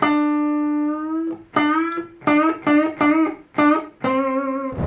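A single guitar note rings, then several picked notes bend upward in pitch, each bend swelling and sliding, played alone and close.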